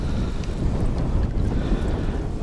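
A strong, steady wind by the Ili River buffets the microphone in a loud, continuous roar, with no voices.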